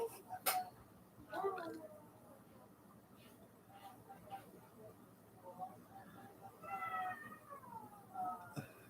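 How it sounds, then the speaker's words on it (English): A pet cat meows several times indoors, short mews scattered across the moment with a longer drawn meow near the end, while people talk quietly nearby. "She's saying meow."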